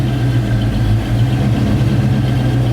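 A Ford Foxbody Mustang engine with open headers rumbles steadily at idle, loud and close, with a deep low throb and no voices.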